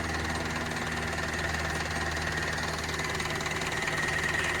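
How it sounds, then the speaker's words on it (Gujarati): A Mahindra tractor engine in running condition idles steadily nearby, a continuous low chugging knock with a faint whine on top, unchanging throughout. "એકદમ રનિંગ કન્ડિશનમાં ટ્રેક્ટર છે"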